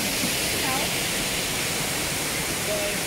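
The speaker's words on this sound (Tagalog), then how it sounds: "Ayan na guys, narating na po namin ang waterfalls." A waterfall reached at the end of a descent on a rural countryside outing, its steady broadband roar of falling water filling the scene continuously and evenly at close range, with a few faint voices barely audible beneath it.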